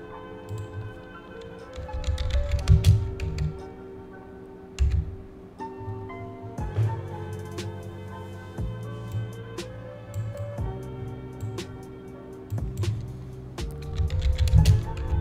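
Keys clacking on a computer keyboard during work on an Unreal Engine 4 project, with scattered irregular taps and short bursts over a low steady hum, moderately close and with no talking.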